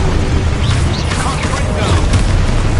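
The Expulso blast spell from Hogwarts Legacy erupts in a loud, close, rumbling explosion with crackling debris, mixed with constant combat noise.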